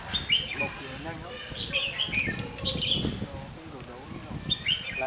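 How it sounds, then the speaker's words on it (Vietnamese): A wild bird near a bird trap gives short, bright chirps in small clusters that repeat across the stretch, under low background noise and some muffled sound. "Chim này chắc phải là đi ra rồi."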